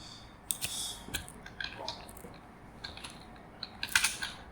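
Computer keyboard typing code for a basic maths program, with scattered, fairly soft clicks and small bursts of keystrokes at an irregular pace and no talking.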